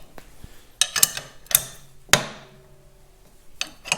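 A ring is drawn off a Caterpillar D2 diesel engine with a puller, giving several sharp metallic cracks and pops at irregular intervals, one loud pop ringing out briefly, close and without speech.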